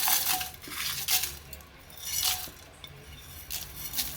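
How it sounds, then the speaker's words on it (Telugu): A spoon stirs spices frying in a metal pan for an old-style gongura curry, producing repeated close scrapes and light clinks. The sound swells and fades in bursts, with no voices. "ఇప్పుడు మసాలాలు వేపుకుందామండి ఇవన్నీ కూడా వేసేసుకుని వేపుకుందాం"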